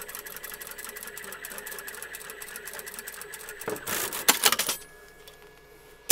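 A sewing machine stitches a seam on a fabric book pouch with patchwork pocket, a steady fast whirring drone, then a burst of louder clattering and rattling near the end before it stops.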